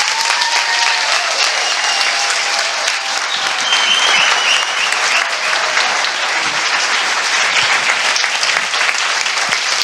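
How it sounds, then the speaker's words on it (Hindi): A church congregation claps for Jesus in dense, steady applause that stays loud and continuous, with faint voices mixed into the crowd noise. "यीशु के लिए एक ताली बजाएंगे"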